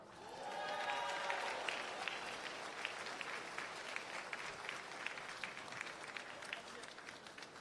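A crowd at a high school graduation ceremony applauds the graduates, with dense, sustained clapping that starts strong and carries on evenly throughout.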